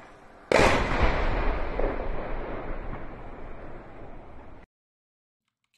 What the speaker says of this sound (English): It started off just as a small fire, and then all of a sudden we had these huge secondary explosions.